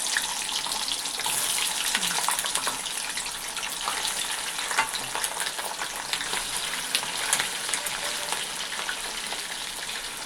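Paneer cubes fry in a pan until golden brown, giving a dense, continuous sizzle with crackling and spattering that holds steady and close throughout, without any talking.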